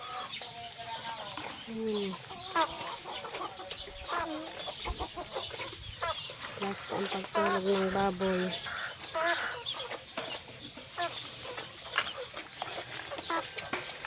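Chickens cluck repeatedly at close range at feeding time on a small pig and chicken farm, a busy farmyard chorus, while a person speaks over them.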